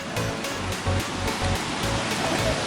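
Roaring waterfall at Madosuli falls, a broad, steady rush of falling water with a pulsing low-end throb, loud and close throughout with no talk.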